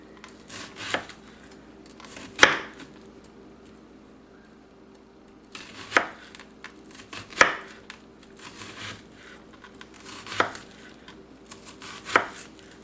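A knife chops an onion on a cutting board: sparse, crisp knocks at uneven intervals, close and fairly loud against a quiet kitchen, while kelaguen, a Guam Chamorro chicken dish, is prepared.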